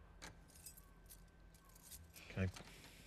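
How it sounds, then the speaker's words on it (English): Keys jingle briefly and quietly, a few light metallic clinks, closing in a soft thump, with faint room noise throughout. "Did you steal my keys?"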